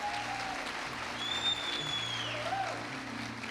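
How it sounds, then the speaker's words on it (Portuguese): A church congregation applauding during a service, a soft, diffuse wash of clapping heard faintly and fairly distant, with low sustained tones from instruments or the sound system underneath. "Uma salva de palmas para a Cíntia, minha esposa."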